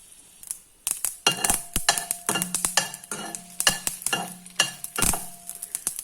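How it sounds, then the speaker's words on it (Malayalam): Mustard seeds popping in hot oil for a raw tomato chutney, a busy cluster of sharp crackling pops and clinks over a steady sizzle, close and fairly loud. "കടുക് പൊട്ടി തുടങ്ങി."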